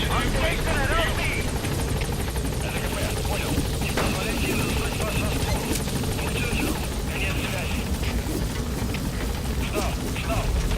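The Pequod helicopter in Metal Gear Solid V, a loud steady rotor thrum and engine whine that fills the whole stretch, with game voices talking over it.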